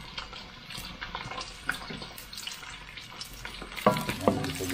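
Ginger and lemongrass sautéing in a pan give a steady, close sizzle, with a few sharper stirring clatters near the end and no voices.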